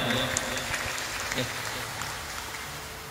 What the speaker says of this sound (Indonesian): Beri tepuk tangan buat beliau.